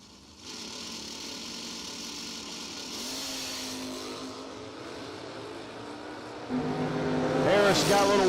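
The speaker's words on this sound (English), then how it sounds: "Daryl Powell out of Morganton now in the Chevelle, dialed in 6:57 to 6:03 for Jason Harris." A Chevelle drag race car at a door slammer drag strip event idles loudly, then its engine climbs in pitch and revs hard near the end, rising to a strong crescendo.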